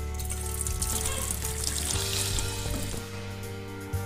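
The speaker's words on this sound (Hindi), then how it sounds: "तो इसमें हम पानी छान लेंगे।" Water from boiled potatoes pours through a metal strainer into a bowl in a home kitchen, a steady splashing trickle running for a few seconds over a low constant hum.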